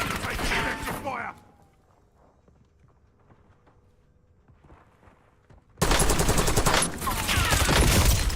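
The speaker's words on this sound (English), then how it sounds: "Taking effective fire." Bursts of automatic gunfire in the Warzone shooter, a loud dense volley at the start, a quieter stretch with faint clicks and footsteps, then another heavy sustained volley up close.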